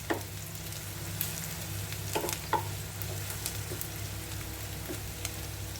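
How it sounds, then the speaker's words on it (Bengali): Onions fry in a pan with a steady soft sizzle, broken by a few sharp crackles and stirring scrapes. The sound is close and moderately quiet, and no one speaks. "একটু সময় নিয়ে পেঁয়াজগুলো ভাজতে হবে।"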